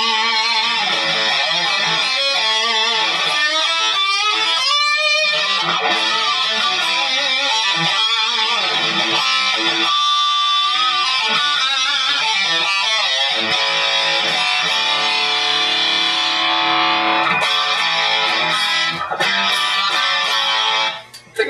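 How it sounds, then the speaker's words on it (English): A dense, saturated electric guitar tone through a Line 6 M9 classic distortion setting playing chords and riffs continuously, loud and close, with no voices, ending abruptly. "Classic distortion."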